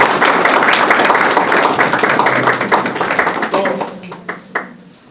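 Audience applause at a teacher award ceremony as a winner is called up: dense, loud clapping filling the room, gradually thinning and fading out over about five seconds, with a few scattered last claps near the end.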